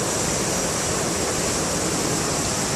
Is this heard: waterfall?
yes